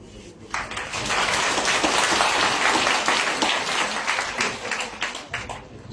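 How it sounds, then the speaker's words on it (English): Students in a Chattogram audience break into dense, loud clapping that starts abruptly, holds steady for about five seconds and then trails off. "so why don't you have a clap?"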